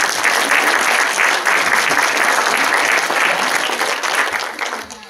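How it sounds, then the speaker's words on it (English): Audience applause for the games maker at a live retro-themed gaming show, a dense, loud, sustained clapping that carries steadily for about five seconds before easing slightly at the end. "Round of applause for the games maker."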